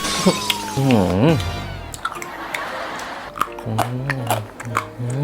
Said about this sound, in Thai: กรุบกรุบรสชาติหวานเคี้ยวได้เพลินๆเลยนะ